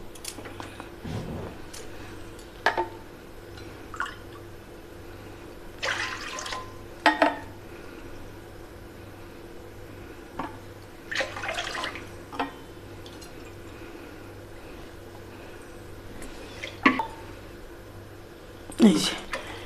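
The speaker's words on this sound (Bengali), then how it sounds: "এই যে 4 কাপ আমি জল দিয়ে দিলাম" Four cups of water poured into a pot for rice-flour pitha dough, several separate gushing pours with splashes, close by over a steady low hum.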